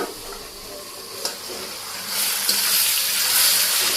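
Leafy greens (saag, drumstick leaves) sizzle steadily in a hot pan, a broad hiss that swells louder partway through with a few sharp clinks of stirring, close by with no talking.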